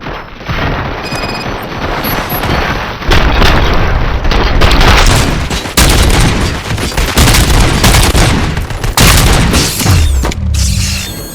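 Sustained gunfire in the video game RoboCop: Rogue City on PS5, loud and dense, with repeated booming shots and mechanical clatter throughout, one brief drop near the middle and a sharp break near the end.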